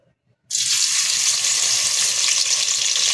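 After a brief silence, a loud sizzle starts as crushed garlic and onions hit hot oil in a pot and keep frying steadily.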